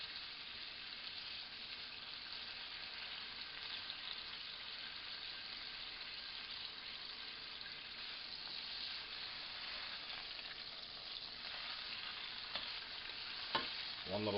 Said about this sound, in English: Just a quick sear.